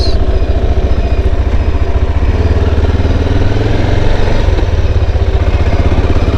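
A Honda Fireblade motorcycle engine hums steadily while riding slowly on country roads, a continuous low mid-pitched drone with a slight rise in revs partway through, close and loud throughout with no talking.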